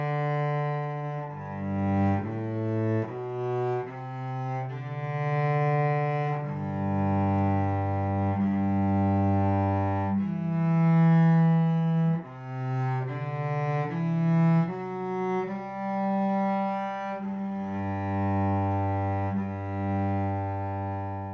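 Solo cello plays the first section of a Bach minuet in rhythm, a beginner lesson piece with a steady sequence of full, bowed low notes, some held longer, played close and alone without speech.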